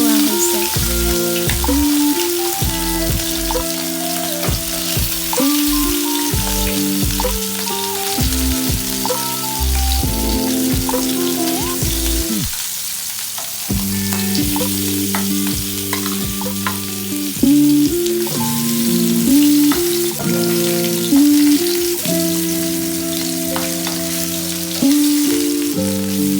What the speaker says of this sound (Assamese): কেৰাহীখন অলপ গৰম হ'বলৈ দি মাছখিনি তেলত ফ্ৰাই কৰি লোৱা হৈছে।